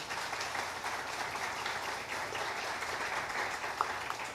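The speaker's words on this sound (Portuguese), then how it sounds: "Uma salva de palmas por esse missionário." Congregation applauding a missionary at a church youth week service, a steady wash of many hands clapping at moderate distance, even and continuous with no talk over it.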